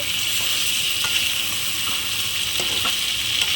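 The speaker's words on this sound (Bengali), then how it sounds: "আলু গোশ একসাথে আর একটু ভালো করে কষিয়ে নেবো।" Potatoes and meat stir-fried together in a pan for a Bengali potato-and-meat curry, a steady close sizzle with occasional scraping stirs throughout.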